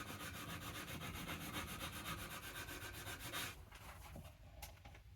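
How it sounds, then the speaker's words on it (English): A Bosch sander working a yew bow without its pad, a steady loud abrasive rasp that cuts off and drops to a quieter scrubbing near the end, close up with no speech. "for a Bosch sander. Do they work without the pad? They do."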